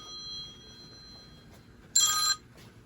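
A telephone rings once in a quiet room: a short, bright electronic ring burst after a faint earlier tone, close and clear.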